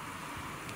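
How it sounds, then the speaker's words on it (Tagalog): Light drizzle builds into steady rain, a broad continuous hiss heard outdoors near a roadside gas station, fairly even and moderately loud with no voices. "medyo lumakas na yung ambon"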